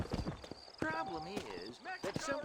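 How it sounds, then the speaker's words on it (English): A horse's hooves trot in a clip-clop rhythm in the Red Dead Redemption video game on PC, heard under a tonal, voice-like layer of game music or dialogue. "Monte no seu cavalo e é o E para montar no cavalo."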